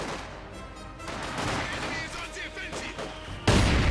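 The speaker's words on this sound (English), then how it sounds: "And there we go, mortar rounds falling down." Mortar rounds land in the strategy game Company of Heroes 2, a dense rumble of explosions and gunfire with a heavier blast near the end, under a commentator's voice.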